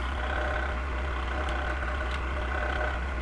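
Drill press turning at about 200 RPM with an M35 cobalt bit, a steady even motor hum with faint higher whine and a couple of brief ticks, continuous and fairly loud, no voices.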